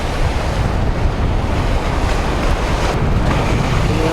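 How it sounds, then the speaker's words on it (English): Steady rush of wind and lapping waves on open water of Lake Ontario, continuous and fairly loud, with buffeting wind noise on the microphone throughout. "Windy and wavy"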